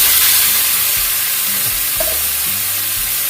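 Long eggplant stir-fried in a pan in a home kitchen, a loud continuous sizzle with scraping stirs and clinks of the utensil throughout.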